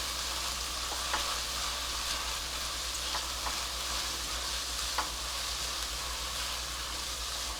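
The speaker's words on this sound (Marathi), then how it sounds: "आता कडधान्य परतून झाली आहेत" Mixed pulses being sautéed in a pan for khichdi, producing a steady, even sizzle with a few soft stirring scrapes and a low hum underneath.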